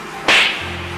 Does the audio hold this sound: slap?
yes